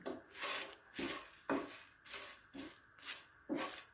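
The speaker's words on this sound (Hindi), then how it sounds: "इसमें हम ये तमाम मसाले जो हैं इनको डालेंगे और इनको 2 मिनट तक भून कर हम फ्लेम ऑफ कर देंगे।" Whole spices for Sindhi biryani are stirred and dry roasted in a hot pan, giving a soft, rhythmic scraping and rattling that repeats about every half second, faint and close, with no talk.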